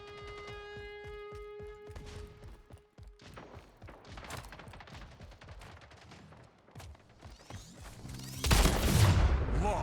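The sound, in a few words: gunshots in the video game Splitgate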